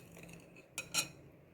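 A spoon stirs sugar in a bowl while making beetroot wine, giving two quick, close metallic clinks against the bowl over a faint, quiet room background, with no talking.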